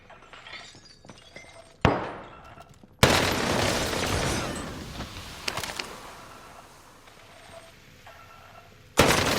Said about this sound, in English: I could hear the window smashing.